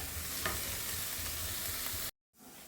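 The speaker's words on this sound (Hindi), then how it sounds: "अब हम इसको ब्राउन होते तक भून लेंगे।" Onions, asafoetida and chopped coriander stems frying in a pan give a steady, soft crackling sizzle with light stirring scrapes, then the sound cuts off briefly before the sizzle returns.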